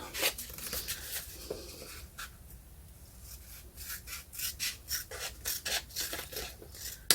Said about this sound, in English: I'm now going to cut inside that line where the edge of the pocket is